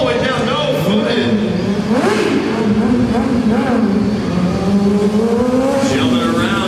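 A stunt motorcycle revs hard into a corner at an indoor motorcycle show stunt display, the engine note climbing and falling in loud, sustained bursts. An announcer talks continuously over the engine.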